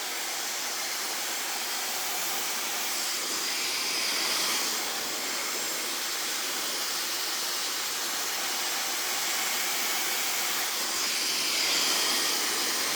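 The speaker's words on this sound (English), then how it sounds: "push the brush in and pull it out and attach the hairdryer as you do it" A steady, broadband rush of blowing air runs throughout, loud and close, with slight swells in intensity, like a hair dryer running continuously.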